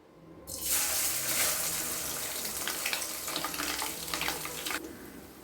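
Grated coconut stirred and fried in ghee for coconut burfi, a bright hissing sizzle that starts abruptly, holds steady for about four seconds with faint stirring scrapes, then cuts off.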